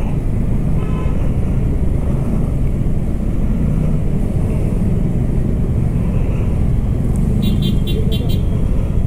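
A 2023 Hero Xpulse 4V Pro Rally Edition motorcycle rides through traffic, its engine droning loud and steady under heavy wind rush, with a brief horn-like toot near the end while a rider talks over it.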